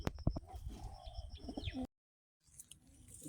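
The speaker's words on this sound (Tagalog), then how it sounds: "kakarating lang ng kalapati natin" Racing pigeons just back from a training toss at San Marcelino, with close bird calls and soft coos over a busy stretch, then a brief silent gap before quieter outdoor ambience returns.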